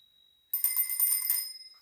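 A Spurcycle Original Raw bicycle bell is struck once after a moment of near silence, giving a bright, crisp, close ring that shimmers and fades slowly.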